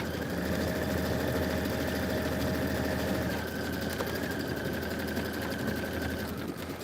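Sewing machine running steadily while stitching a quilt section for the Kimberbell Sippin on Sunshine pattern, a continuous close mechanical hum with a fast even rhythm and no pauses throughout.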